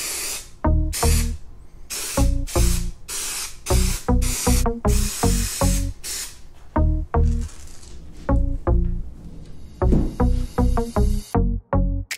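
Short bursts of spraying hiss from an aerosol can of spray adhesive, repeated in a stop-start rhythm, with clicks of the nozzle between sprays.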